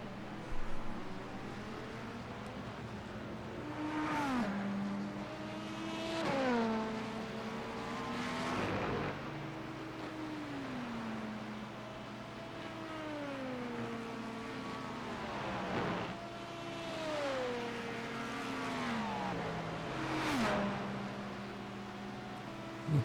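Several race car engines from an IMSA sports car race in a video game drone steadily, their pitch climbing and dropping through repeated gear shifts and passes, a continuous mid-loud mechanical roar with no talking.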